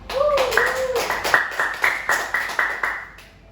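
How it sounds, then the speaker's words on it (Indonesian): A short burst of evenly paced rhythmic clapping from a classroom audience, about a dozen sharp claps in a steady beat, with a brief tone at the start. "Berikan dulu tepuk tangan untuk Bella."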